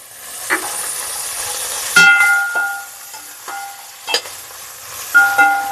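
Ground masala paste and chili powder fry in oil for a mutton biryani, a soft sizzle punctuated by several sharp metallic clinks and scrapes of a stirring utensil against the pot.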